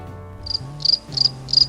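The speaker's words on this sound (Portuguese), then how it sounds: "Tá tocando grilo assim no final" Crickets chirp in four quick, evenly spaced bursts of high trilling pulses, close and clear over a low steady hum.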